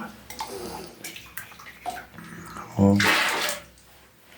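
Water poured into flour for homemade local bread dough makes a brief rushing splash midway through, louder than the background. Someone says a single short word before it.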